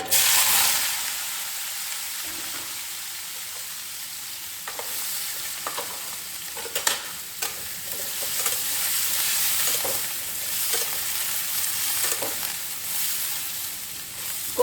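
Cauliflower florets fry in a pan with a steady, close sizzle and faint hiss, occasionally stirred with soft scraping bursts, no voices over it.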